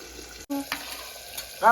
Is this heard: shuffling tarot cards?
no